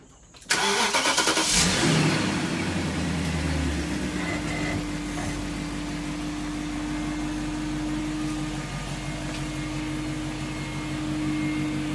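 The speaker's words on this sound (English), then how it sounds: "Take this car to find Junior." A car engine catches with a sharp start at about half a second, then runs steadily with a low, continuous hum, idling and pulling away with no one talking over it.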